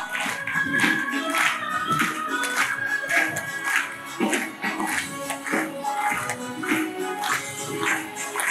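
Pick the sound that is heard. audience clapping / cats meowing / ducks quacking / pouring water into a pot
audience clapping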